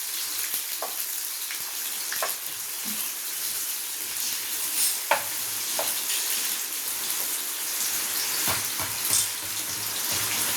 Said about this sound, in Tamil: வெங்காயம் போட்டுக்கிறோம். இது நல்லா பொன்னிறமாகிற வரையும் நல்லா வதக்கி எடுத்துக்கணும்.